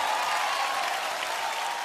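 Steady, dense applause from a studio audience at a comedy competition show, continuous and even throughout.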